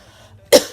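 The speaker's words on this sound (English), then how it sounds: "stop coughing." One short, sharp cough bursts out after a near-silent stretch, followed by the start of a second.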